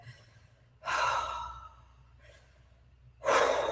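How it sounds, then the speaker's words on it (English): Slow, steady breaths blown out through the mouth in a breathing exercise, two long airy exhales separated by a softer short breath, close and clear with no talking. "you've just got your breathing through your mouth"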